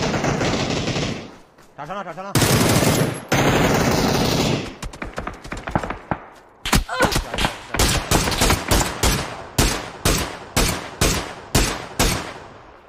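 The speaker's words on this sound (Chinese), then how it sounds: "左边大炮响枪了" Video game firefight with rapid machine-gun bursts and loud cannon blasts, dense sustained gunfire early then a long run of sharp repeated shots, with excited players talking over it.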